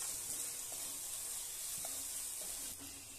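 Ginger garlic paste fries in a pan for a chicken or mutton curry, giving a faint, steady sizzling hiss with a few soft ticks and pops throughout.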